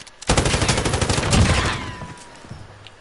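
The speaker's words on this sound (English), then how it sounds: "This gun is what an M249 should really be." Rapid, loud automatic fire from an M249 light machine gun in Call of Duty Modern Warfare, a sustained burst of close shots that tapers off near the end.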